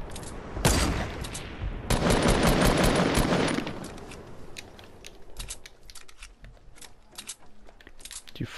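The drum gun in Fortnite fires from close by in two dense, rapid bursts near the start. Scattered lighter gameplay clicks and distant pops follow as the action fades, with no talk.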